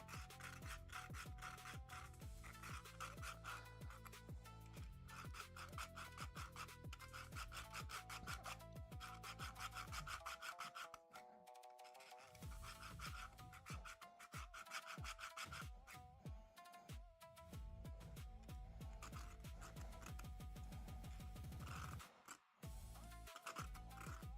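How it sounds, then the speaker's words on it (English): A hand saw rasps steadily through an RC rock crawler part in close, rhythmic back-and-forth strokes, pausing briefly midway before resuming. "We'll just keep sawing."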